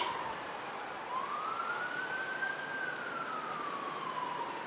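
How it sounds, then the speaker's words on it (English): A single emergency vehicle siren wail rises and slowly falls, fairly distant, over steady wind-like background noise on a cold, windy day, with no talking. "those sirens are really going crazy"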